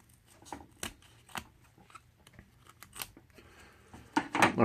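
Scissors trimming a paper model of a scale custom speaker box, a run of crisp snips at an uneven pace, close and quiet, ending in a louder rustle of paper.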